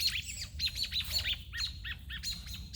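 High, thin chirps from a young bird repeat in quick bursts close by, over a low steady background rumble.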